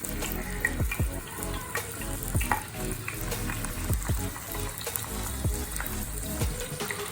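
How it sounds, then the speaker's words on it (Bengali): Pieces of parse fish fry one at a time in a pan, giving a dense, continuous crackle and sizzle with frequent sharper pops, close and fairly quiet, with no voices. "দিয়ে এবার মাছগুলো আমি এক এক করে ভাজবো"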